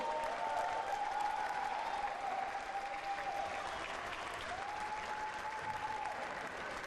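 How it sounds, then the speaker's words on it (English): Steady applause from an audience at a Billie Jean King Cup tennis tie between India and Korea Republic, clapping throughout at an even level with a faint crowd murmur beneath. "Big round of applause."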